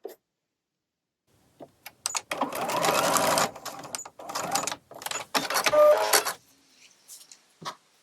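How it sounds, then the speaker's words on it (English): Sewing machine with a regular presser foot stitching a lined zipper pouch, running in several short bursts of different lengths with brief pauses between them, close and fairly quiet. "I'm going to just use my sewing machine regular foot, and I'm just going to be real careful as I'm sewing this in place"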